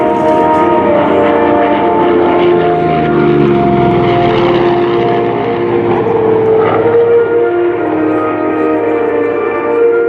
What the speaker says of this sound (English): Watch now as the Corsair comes back in, low and fast.